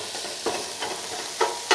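Seasoned ground meat for tacos being mashed and stirred in a hot pan, a steady close sizzle broken by several soft scraping pushes of a utensil.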